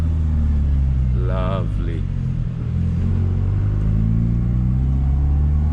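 A 2006 Proton Savvy 1.2L hatchback, freshly fitted with new engine mounts and gear bushing, accelerates through the gears with a steady close engine drone and rumble, while someone speaks briefly over it.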